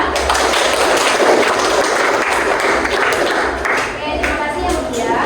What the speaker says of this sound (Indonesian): beri aplaus buat Mutia